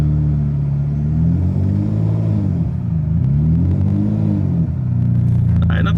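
Manual Ferrari 599 GTB engine pulling away from a stop with the clutch, a steady low rumble that rises and falls as revs change, loud and close with no talk over it.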